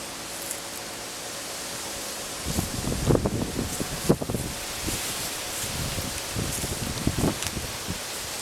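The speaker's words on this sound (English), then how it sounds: "It's a little windy out here today" Steady wind rushing outdoors with broadband noise, occasional rustling and gusty bumps, no voices.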